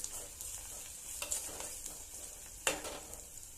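Cabbage palya being stirred in a pan with salt and a little sugar: steady frying sizzle with scraping spoon strokes, including sharper scrapes near the start and a louder one near the end, with no talking.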